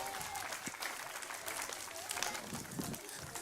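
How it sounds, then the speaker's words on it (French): A short burst of scattered clapping from a small group of children at a show, light and uneven, with a faint voice or two underneath. "Allez, on applaudit notre champion, Tristan."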